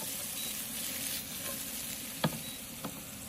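Garlic and halved cherry tomatoes frying in a pan, a constant soft sizzle with a couple of sharp pops and a stirring clack, fairly quiet and close with no speech.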